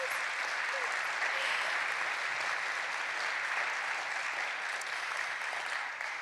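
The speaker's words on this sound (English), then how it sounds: "Can you please give them a round of applause?" An audience at a Christian school's Christmas arts evening gives a long, even round of applause, many hands clapping together from a moderate distance without letting up.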